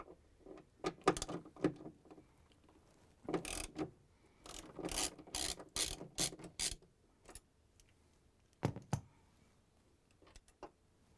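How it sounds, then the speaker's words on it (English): 10mm socket wrench ratcheting out a bolt on a Whirlpool washer during clutch replacement, heard as close, irregular bursts of clicking and metallic rattling separated by quiet gaps. "Next step is to take out this 10mm bolt. I'm using the 10mm socket wrench."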